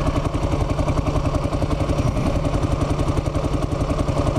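Kawasaki KLR motorcycle engine idling at about 1,000 RPM, a steady, close, rhythmic thumping putter with a slight mechanical clatter, running alone without voices.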